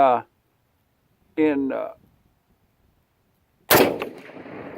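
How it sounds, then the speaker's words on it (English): A single sharp, loud rifle shot from a Springfield M1A firing soft point ammunition, ringing out after brief moments of someone talking. "It's a good shooting gun right here. Shooting soft point ammo out of it."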